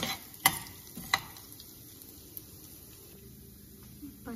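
Chana dal and urad dal dry-roasting in a pan for nalla karam podi, with a few sharp scrapes and clicks of stirring over a quiet, faintly hissing background; no one speaks.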